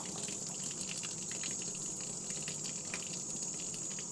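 A rag used to wipe saddle soap off leather boots is rinsed in water, making a continuous close splashing and gushing sound with a hiss of running water and no pauses.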